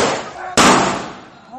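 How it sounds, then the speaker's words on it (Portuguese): Two sharp gunshots from a long gun crack outdoors in a street, the second louder, each followed by a ringing echo off the surroundings. "é possível ver um homem de camisa vermelha com uma arma longa e o som dos tiros"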